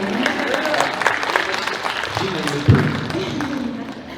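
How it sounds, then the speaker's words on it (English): A convention panel audience claps throughout, a moderate crowd applause with a dull thump partway through and voices mixed in. "we can clap. We like clapping."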